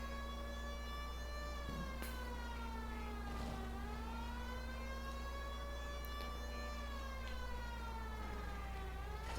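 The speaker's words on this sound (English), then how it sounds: "This siren is just so loud, but it's so damn effective." A police car siren in the video game LA Noire Remastered wails up and down continuously, steady and prominent, with faint road noise beneath it.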